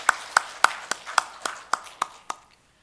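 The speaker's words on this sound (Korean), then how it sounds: "우리 하나님께 영광의 박수 올려드리겠습니다." A church congregation claps in unison during a service, giving about nine sharp, evenly spaced claps that fade out with a slight room echo.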